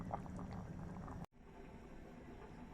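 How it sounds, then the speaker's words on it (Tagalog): Pot of beef spare ribs and vegetables, including pechay, boiling steadily for nilaga, a soft continuous bubbling that cuts out briefly and then resumes, heard alone and close. "At papakuluan lang natin siya."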